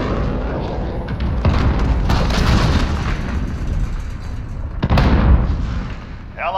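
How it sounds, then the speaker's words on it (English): A cruise missile strike in Call of Duty Modern Warfare booms loudly with heavy rumbling blasts and debris, followed by a second sharp explosion and a rolling roar of gunfire and battle noise. "Enemy cruise missile. Take cover."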